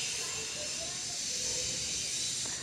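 Spinach and cauliflower gobi mixture sizzles steadily in hot oil, a constant broadband hiss filling the whole stretch at a moderate, even level.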